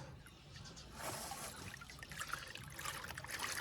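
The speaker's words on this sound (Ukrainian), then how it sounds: "З'єднуєте, щоб в той шланг потекла вода." Faint water trickles and flows through a hose attached to a Temu garden fountain, a soft, uneven stream with small splashes. It is quiet and close, with no voices.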